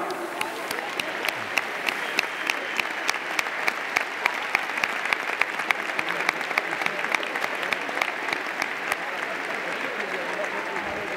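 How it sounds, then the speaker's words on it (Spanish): A stadium crowd at Mestalla in Valencia claps through a presentation of a legends match, a dense, sustained wash of applause with sharp individual claps standing out, lasting the full stretch. "I se fort aplaudiment per a Luis Milla."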